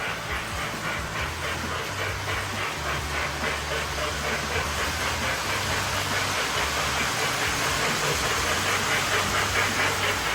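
Lionel 1990 700E Hudson toy train locomotive running on a layout track: a steady, continuous motor whir and rhythmic wheel clatter with a dense buzzing hum, moderately loud and unbroken.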